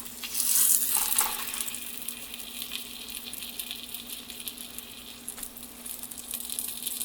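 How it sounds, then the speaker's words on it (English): Floured steak browning in oil over low heat, giving a steady close crackling sizzle with a brighter burst of spatter at the start that settles into an even fizz. "you want to brown the meat on both sides. And we're browning this on real low heat."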